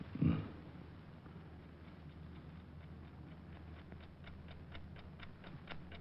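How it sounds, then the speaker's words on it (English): A clock ticks steadily in a quiet room, the faint regular ticks running throughout after a brief low thump at the start, in an old-time radio drama scene. "That clock is going to drive me crazy."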